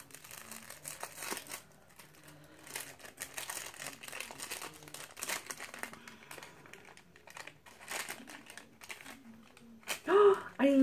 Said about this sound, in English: So it comes in this little, you know, parchment paper bag.